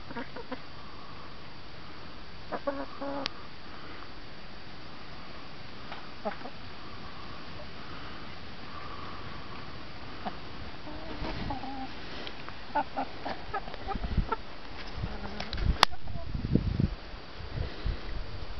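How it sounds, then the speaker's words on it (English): Chickens cluck and murmur softly at close range while eating courgettes, with light rustling and pecking, growing busier and louder toward the end. "So, bird's eye view of chickens eating courgettes."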